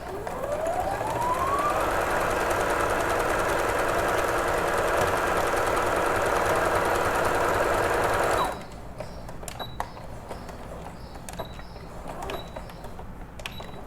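A sewing machine backstitches knit fabric scraps, its motor whirring loud and steady as the pitch ramps up and holds for several seconds, then stopping, followed by quiet clicks and handling sounds.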